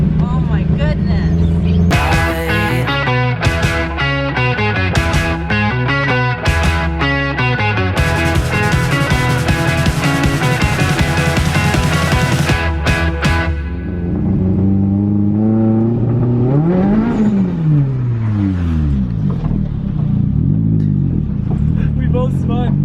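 A drift car's engine drones loudly and continuously as it climbs the cold mountain road up Pikes Peak. The pitch holds steady at first, then swoops up and down as the revs change.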